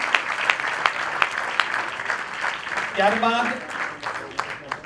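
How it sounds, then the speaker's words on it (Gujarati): An audience at an evening devotional programme claps together in a dense, steady patter, with a brief voice rising over the applause partway through. "એકવાર એને જોરદાર તાળીઓના નાદથી વધાવશું"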